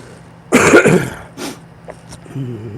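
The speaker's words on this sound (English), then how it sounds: "I still have this cough." A burst of harsh coughing up close, a few rough hacks followed by a smaller throat-clearing sound, then a brief murmur.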